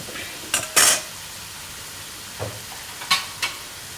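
Potato finger chips deep-fry in hot oil with a steady, soft sizzle, broken by a few sharp metal clinks and scrapes from a utensil in the pan.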